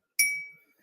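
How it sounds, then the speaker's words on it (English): A single bright clink of a drinking glass, a sharp ringing tap that decays over about half a second, heard close and alone. "He sure loves drinking from that glass."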